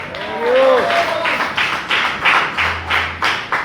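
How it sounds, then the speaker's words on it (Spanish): Rhythmic clapping in a steady beat at a church service, several hands clapping together at a moderate pace, with a voice briefly heard near the start. "Puede soltar una alabanza de aplauso a Dios"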